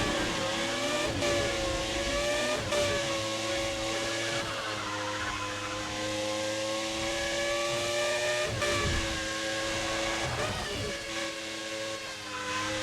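A Renault Espace F1 with a Formula 1 engine in Need for Speed ProStreet revs in high, whining bursts, climbing and shifting through gears several times, loud and close with no talk.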